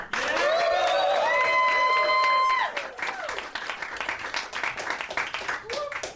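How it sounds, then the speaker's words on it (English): At a New York roast battle comedy show, the crowd votes for a comedian with loud whooping cheers and clapping, the yells dying away after a couple of seconds while scattered claps and some voices continue. "Clap or cheer if you guys think the winner in this battle is Chris Crespo."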